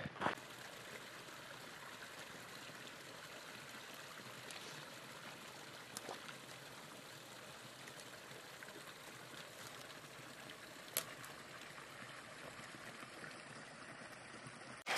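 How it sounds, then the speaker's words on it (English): A creek near Hyatt Lake flowing steadily, soft continuous rushing and trickling water, fairly faint and unbroken throughout. "we're back at the creek that Kiki found for us yesterday"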